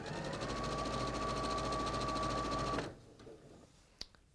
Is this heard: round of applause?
no